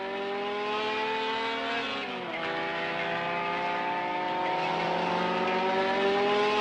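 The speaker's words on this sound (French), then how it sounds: "Propulsée par le moteur Renault Gordini 1300 cm3, développant 130 chevaux, elle dépasse" A Renault Alpine A210 race car powered by a 1300 cc Renault Gordini engine, a loud high-revving engine whine that drops as it shifts gear, then climbs again steadily and holds strong.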